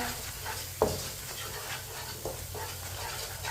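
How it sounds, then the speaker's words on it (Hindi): Ground spices cooking in a pan over low heat for an egg curry, giving a soft, steady sizzle with a brief clink of stirring near the start and a lighter one later. "कम आंच पे मसालों को लाजमी 1 मिनट के लिए पकाएं"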